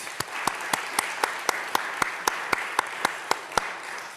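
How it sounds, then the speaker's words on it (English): A steady run of single sharp claps, evenly spaced and fairly regular, rises over a soft hiss of room noise as an audience applauds after a presentation on the Frontier Guardian, Council Bluffs' first newspaper. "Let's give another round of applause."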